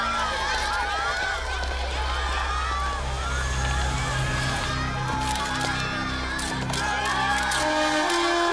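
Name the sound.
crowd cheering before tennis championship final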